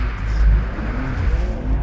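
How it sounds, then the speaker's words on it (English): A BMW M2 slides around a damp track corner, its engine droning loudly and steadily while the tyres scrub and squeal through the bend, close and continuous. "I'm having to slide it around the corner rather than do it neatly."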